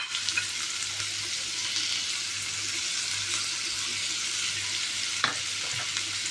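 Onions fry lightly in oil in a pan, giving a steady, close sizzle that runs without a break, with one brief utensil clink near the end.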